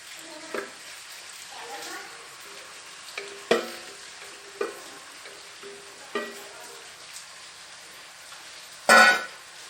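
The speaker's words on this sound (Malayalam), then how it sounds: "ഇനി നമുക്ക് ചിക്കൻ ഇതിലേക്ക് ചേർത്ത് കൊടുക്കാം." Chicken goes into a hot pan for a Thalassery-style chicken dum biryani, with a quiet background sizzle, scattered clinks and stirring knocks, and a louder scrape near the end.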